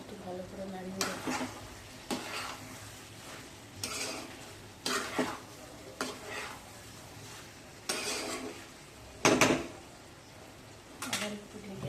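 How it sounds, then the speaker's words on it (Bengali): Soaked paneer being stirred in a cooking pan, a soft sizzle under repeated scraping and clinking strokes of a utensil against the pan, each stroke coming every second or two, with someone talking over it. "একটু ভালো করে নাড়িয়ে দেবো।"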